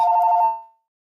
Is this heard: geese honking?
no